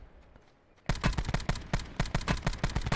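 Rapid gunfire in the Call of Duty Blackout battle royale, a sudden loud burst of evenly spaced close shots after a quiet, faint lead-in.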